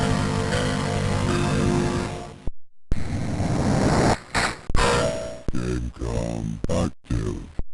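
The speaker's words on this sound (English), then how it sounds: "The best example of this is the Gamecom boot up sound. Here's what it sounds like from an emulator." Tiger Game.com handheld boot-up sound from an emulator, slowed: a dense buzzing synthetic chord holds for a couple of seconds, cuts out briefly, then gives way to a garbled, drawn-out robotic jingle with choppy bursts, loud and alone.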